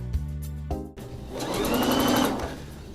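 Sewing machine stitching the sleeve of a winter coat, a few short starts followed by a steady, close whirring run of fast needle strokes.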